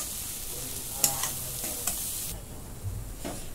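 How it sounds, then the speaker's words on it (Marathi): Egg bhurji with fresh coriander sizzles steadily in a pan, with a few scraping stirs from a spoon near the start and middle; no voices. "आता अजून एकदा परतून घेते चांगलं खमंग असं"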